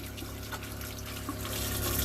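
Hot water runs steadily from a tap fed by a ventless LP gas on-demand water heater, a continuous splashing hiss that grows slightly louder toward the end, with no voices.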